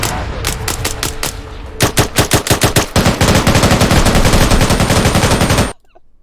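Machine gun fire from a video game rips out in rapid bursts, loud and close. The rhythm of the shots quickens into a dense, continuous stream, then stops abruptly near the end.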